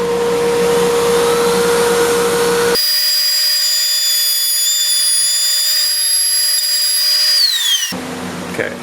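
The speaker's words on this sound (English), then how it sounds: "I got the dust collector here." Dust collector running in a workshop, a loud steady whine and whoosh that starts abruptly, holds steady, then winds down. Another machine hum sounds before and after it, with no voices.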